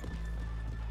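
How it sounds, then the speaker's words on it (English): Horse hooves clip-clop at a walking pace in Red Dead Redemption 2, with a brief whinny, moderately quiet over a steady low background hum. "Let's leave the horses here off the main drag."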